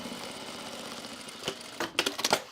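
A sewing machine runs a quarter-inch seam for a bag with a soft steady hum, then a few sharper clattering stitches near the end.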